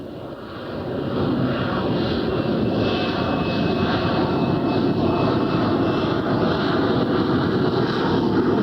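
A Harrier jump jet's engine gives a loud, continuous roar that builds over the first second and then holds steady, with rough wind noise across the microphone.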